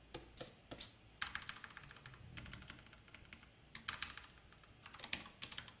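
SQL code being typed on a computer keyboard, a close run of quick, fairly quiet key clicks in bursts with brief pauses and no talking.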